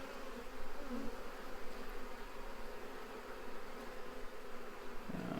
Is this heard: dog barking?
no